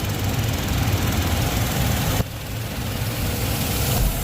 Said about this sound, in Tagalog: mas tahimik yung makina talaga pag bagong change oil